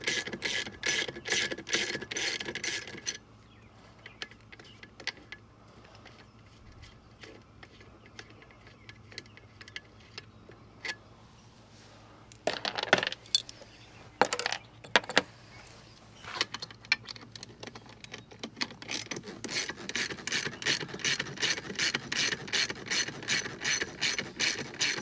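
Ratchet clicking steadily while backing out bolts on the trim pump of a 1973 Cobalt boat, bursts of rapid pawl ticks at the start and end with quieter handling clatter and metallic knocks between.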